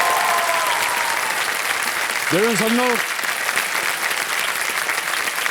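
A studio audience on a TV quiz show applauds loudly and continuously, a dense, close wash of clapping that runs throughout while someone speaks briefly over it.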